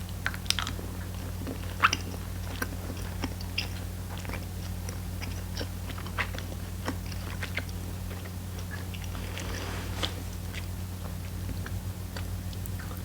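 Lemon lime snow cone flavored candy corn being chewed up close, with soft crunchy bites and wet mastication sounds repeating steadily over a low constant hum, no talking.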